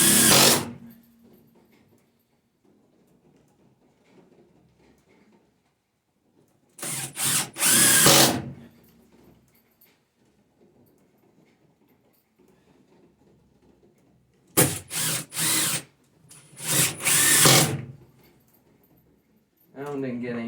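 A power drill drives 2-inch deck screws while building a winter pig waterer, sounding in two pairs of short, loud whirring bursts separated by quiet stretches with faint background noise.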